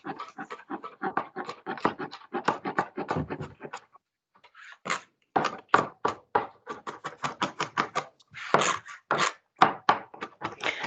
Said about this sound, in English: I'm going to give my garlic a chop.